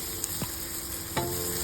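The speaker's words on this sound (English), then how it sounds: "In a pan, saute garlic and onion." Garlic and onion sautéing in a pan give off a steady sizzle, with two short scraping stirs, and no voices are heard.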